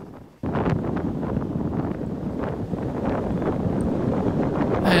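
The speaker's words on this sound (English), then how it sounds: "It's going to be very, very windy." Strong hurricane wind from Hurricane Dorian roars across a beach at Vero Beach, buffeting the microphone in a loud, continuous rumbling gust that starts suddenly and never lets up.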